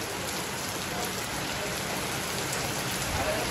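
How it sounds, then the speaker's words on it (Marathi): Steady rain falls at a farmhouse during a birthday outing, a dense, even hiss that continues throughout. "पाऊस पण आलाय"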